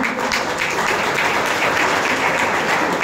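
A crowd at a Women's Day address to students claps steadily for an NGO team, dense even applause filling the room throughout without pause.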